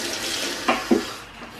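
A small splash of hot water is poured into cooked noodles in a kitchen, a brief close trickle with a couple of soft splashes before it fades.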